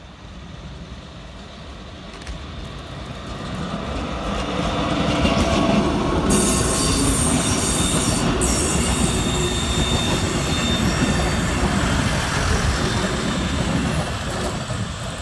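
A diesel railcar, the Esslinger Triebwagen, pulls out of Oranienbaum station on the Dessau-Wörlitz railway. The rumble and wheel noise build steadily and stay loud and close, with squeal and clatter from the rails and no talk.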